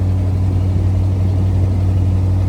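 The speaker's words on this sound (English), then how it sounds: "That is a cold start." Porsche Cayenne Turbo E Hybrid V8 on a cold start in roughly 30-degree weather, settling into a steady, low droning idle heard up close without interruption.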